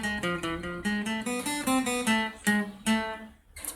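The intro melody of Bella Ciao is played on a lead guitar as single picked notes, a clear stepwise tune of about a dozen plucks ringing close and alone.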